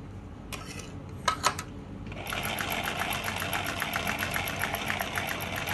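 A Singer 107w100 sewing machine runs a steady straight stitch after a few light clicks and taps, its needle beating in a fast, even rhythm at close range.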